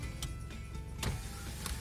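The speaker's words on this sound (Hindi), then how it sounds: "अबे शीशा मत खोल ना, इतना थोड़ी खोल लगा।" A car's electric window motor whirs steadily inside the vehicle, with a few soft knocks and bumps. No one speaks.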